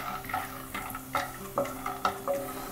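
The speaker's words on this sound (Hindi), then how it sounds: "मूंगफली को हमें मीडियम टू लो फ्लेम पे कम से कम 3 मिनट के लिए भून लेना है।" Peanuts are stirred and roasted in a pan over a medium-low flame, with a spoon scraping and rattling them in a regular rhythm over a faint sizzle, close and fairly quiet.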